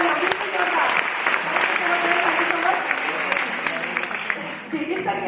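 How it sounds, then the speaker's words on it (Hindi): An audience at a product presentation breaks into steady applause, a dense clatter of many hands clapping fairly close, with a voice speaking over it. "निकिता मैम के लिए एक बार जोरदार तालियां, बिल्कुल जोरदार"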